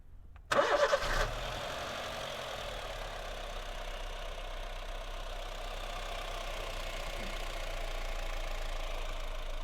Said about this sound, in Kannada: ಇಂಜಿನ್ ಆನ್ ಮಾಡೋಕ್ಕೆ ಹೇಳ್ತೀನಿ